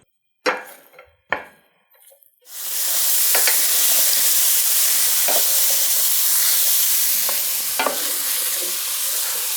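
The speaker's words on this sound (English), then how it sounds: "We're going to cook this all together until the sausage starts to brown and the onion's soft." Sausage and onion frying in a pan for a breakfast casserole: a few sharp clatters of stirring, then a loud, steady broadband sizzle that continues to the end, broken by occasional utensil scrapes and knocks.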